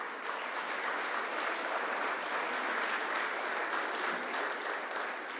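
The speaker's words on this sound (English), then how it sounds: "Let's give them a round of applause." Dense applause from a sizable audience at a ceremony honoring school cross country teams, even and sustained from start to finish, with no pauses or voices standing out.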